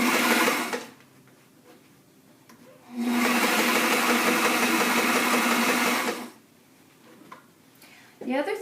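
Two loud, sustained bursts of a sewing machine stitching a box cushion, separated by a quieter stretch where a person talks, with a brief rattle at the very end.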